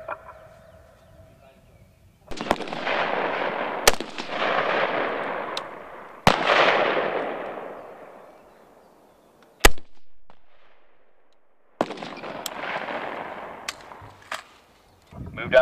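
M16 rifles fired on a 25 meter zero range during U.S. Army weapons qualification: several loud, sharp shots at irregular intervals, each followed by a long, rolling echo across the open range.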